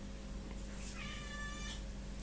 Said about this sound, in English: I'm in the same room as the cats, and the cat needs to eat.